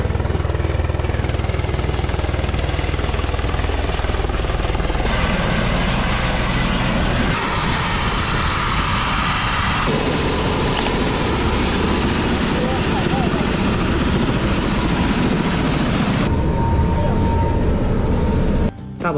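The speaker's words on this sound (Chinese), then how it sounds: "我们的直升机来了。" A tour helicopter over the Great Barrier Reef off Cairns, Australia, droning loudly and steadily close by for the whole stretch, with talk underneath.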